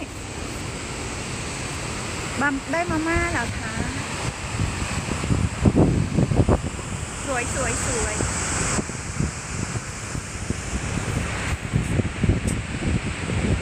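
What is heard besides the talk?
loud waterfall in Verdal, Norway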